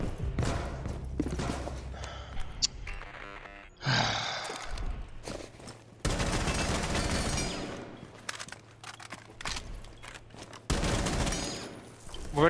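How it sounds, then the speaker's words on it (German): Rapid bursts of gunfire erupt during a Rainbow Six Siege match, sharp crackling volleys coming in several separate clusters amid thuds and game noise, with players talking over the shooting. "Wo wird denn da geschossen?"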